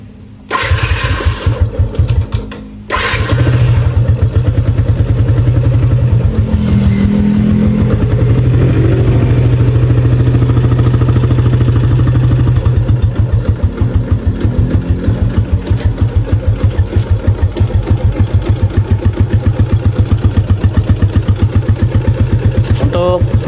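A car engine running on thick Mesran SAE40 oil starts up with a brief crank, then settles into a steady, smooth idle. The rumble is loud and close, with a low pulsing throb throughout and a voice talking over it at the start.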